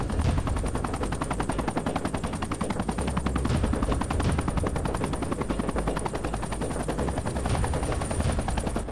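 A JetRanger helicopter flies steadily overhead, its rotor chop forming a dense, continuous rhythmic thumping with a high whine above it. The sound stays loud and unbroken the whole time, with no voices.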